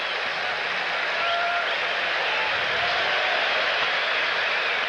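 Steady, dense applause from a baseball stadium crowd at a 1993 Cubs vs Phillies game, sustained and even for several seconds as fans clap for a woman struck by a foul ball.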